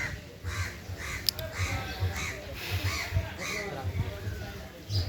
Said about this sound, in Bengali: সেই সাথে কাকের ডাক পাখির ডাক ভালো লাগছে